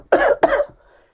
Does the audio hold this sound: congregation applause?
no